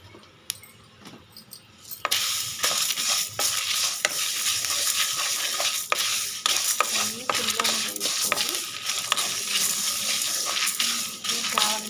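Two spoons of cumin seeds hit hot oil and burst into a loud, crackling sizzle after a quiet start, with spattering pops and stirring scrapes continuing steadily close by.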